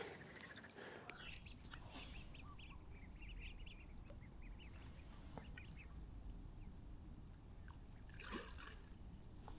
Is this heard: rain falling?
no